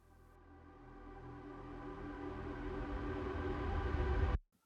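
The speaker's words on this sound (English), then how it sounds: "I took those sounds from Atmos layer and reversed them" Reversed atmospheric sound layer in an FL Studio production swells steadily from quiet to loud over a few seconds with a dense, rumbling wash, then cuts off abruptly.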